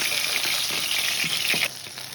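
Tangra fish lightly frying in hot oil: a steady close sizzle with soft bubbling swells, easing slightly toward the end.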